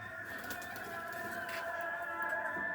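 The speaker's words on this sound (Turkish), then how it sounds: "Kuşlarımız." Soft cooing bird calls repeat over a quiet background hum, close by and gentle.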